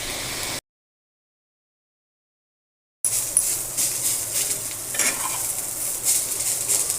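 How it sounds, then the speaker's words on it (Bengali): Leafy greens fry in a pan for a mashed greens dish, giving a soft sizzling hiss with occasional stirring scrapes and clinks, after a stretch of complete silence, with no voices. "ভাজাটা আমি সময় নিয়ে কড়া করে করছি"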